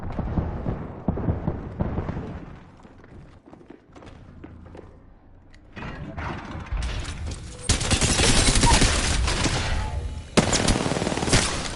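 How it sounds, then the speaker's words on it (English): Fuse's Knuckle Cluster launcher in Apex Legends firing, with heavy thumping blasts and dense gunfire that swell into a loud, sustained barrage in the second half. "Launching me knuckle cluster"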